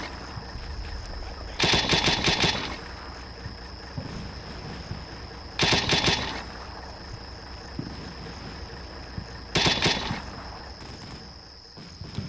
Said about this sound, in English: He's engaging the crew with a Mark 19 grenade launcher.